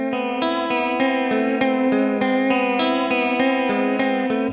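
An electric guitar plays steady repeated picked notes drenched in chorus and vibrato, the pitch wobbling throughout, loud and close with no talking.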